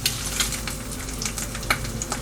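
A sunny side up egg sizzles and crackles steadily in a hot frying pan, close and moderately loud, with a few sharper pops and no talking.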